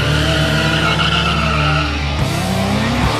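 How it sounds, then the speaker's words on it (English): A motorcycle does a burnout to warm its tyres, a loud, sustained tyre squeal over a droning engine note that shifts pitch partway through. "the first thing to do is warm up the tyres in traditional fast bike style"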